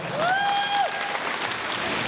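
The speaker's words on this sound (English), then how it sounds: "Give my little brother a round of applause" A high school audience gives a round of applause for the speaker's little brother, steady crowd clapping throughout with a brief whoop or whistle rising over it near the start.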